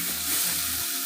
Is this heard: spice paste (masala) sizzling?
yes